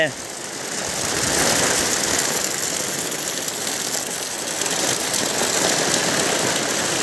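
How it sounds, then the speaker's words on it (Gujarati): Heavy rain driven by strong wind in Vallabhipur, a dense, steady roar of downpour filling the whole clip, loud and close with gusty fluctuations. "જોરદાર વરસાદ આવે છે અને પવન એવો છે પવન સાથે વરસાદ વલભીપુરમાં છે"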